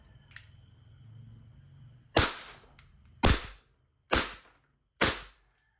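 A WE Glock 18C gas blowback airsoft pistol fires four sharp, loud cracks at close range, spaced about a second apart with quiet gaps between, after a soft mechanical handling sound.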